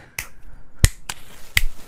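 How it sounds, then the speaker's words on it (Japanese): Sharp finger snaps in a Genshin Impact game trailer, three or four crisp isolated clicks spaced irregularly, loud and close with quiet gaps between. "指パッチン。"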